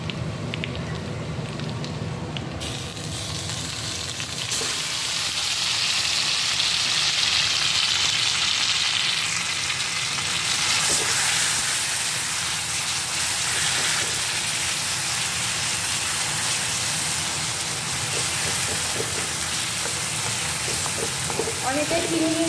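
Boiled taro greens are dropped into a pan of browned garlic frying in oil, setting off a loud, steady hiss of sizzling that carries on and swells after the greens go in.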